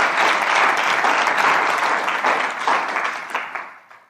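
Audience applause for Eric at a live San Diego event, a loud, dense round of clapping from a crowd that carries steadily and then tapers off near the end.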